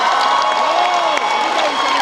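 A college festival crowd at B.M.S College of Commerce & Management cheers and applauds for a DJ act, a dense, steady wash of clapping and whoops at close range.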